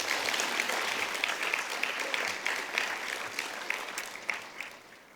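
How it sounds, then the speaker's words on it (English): An audience at a bursary presentation ceremony applauds recipients on part-time studies, sustained even clapping from many hands in a hall, moderately distant and fading slightly toward the end. "may I ask the audience to join me to give them a round of applause for the individuals on part-time studies"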